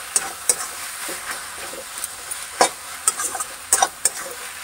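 A spoon stirs watery rice flour paste into a pot over a high flame, with scraping strokes and brief clinks against the metal rising over a steady bubbling sizzle; no one speaks.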